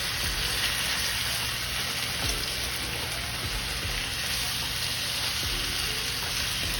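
Onions sautéing with marinated beef in its marinade liquid, a dense, steady hiss of bubbling and sizzling held close and even throughout, with no one speaking.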